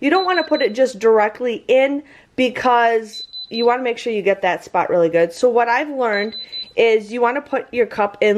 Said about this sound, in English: Sorry for the beeping noise.